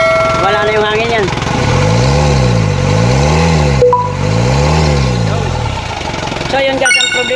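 A 4GB1 diesel engine revs after an injection pump overhaul, loud and close, climbing and falling in repeated smooth rev sweeps. Voices speak over the start and end.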